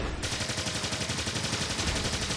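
Charged weapon fire in the video game Project A.P.E bursts in rapid repeated pulses, a dense loud pulsing stream of shots beginning just after the start and holding steady.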